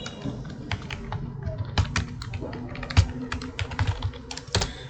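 Someone types a name on a computer keyboard, with irregular bursts of crisp key clicks and a few heavier thumps, steady and close throughout.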